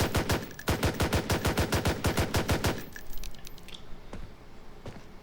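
Rapid burst of M9 pistol shots in Blackhawk Rescue Mission 5, a quick string of sharp, loud cracks for about three seconds, then a few scattered single shots and clinking casings trailing off.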